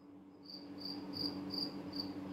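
A cricket chirps in regular pulses, five evenly spaced bursts over a steady low background hum, fairly close and clear with no voices.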